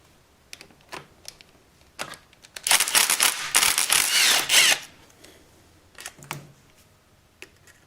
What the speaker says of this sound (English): I do it the Ugga Dugga way, impact and needle nose